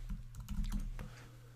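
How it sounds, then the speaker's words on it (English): A password being typed on a computer keyboard: a brief, quiet patter of a few key clicks over a low steady hum, with no talking. "now I just need to type in my password"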